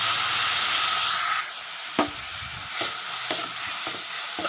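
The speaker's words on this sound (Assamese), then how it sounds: "এতিয়া এই মছলাখিনি ভালকৈ ভাজি ল'ম" Spice masala loosened with a little water sizzles in a pan, a loud steady hiss that drops abruptly, then continues quieter, broken by a few spatula scrapes and taps, with no talking.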